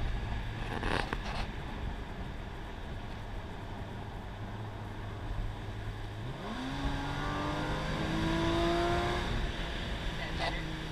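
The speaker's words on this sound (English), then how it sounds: "You have to get on the gas going up this hill." A Porsche engine pulls up a hill under throttle, a steady drone that climbs in pitch as the car accelerates, heard from inside the cabin without talk over it.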